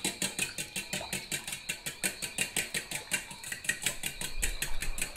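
Keto bread dry ingredients and water being stirred in a bowl, a quick steady run of close scraping, clinking utensil strokes, about four per second, with a low rumble rising near the end and no talking.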